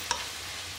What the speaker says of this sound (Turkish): Bir diş sarımsağı da ince doğrayıp ekliyorum içerisine ve devamlı kavuruyorum.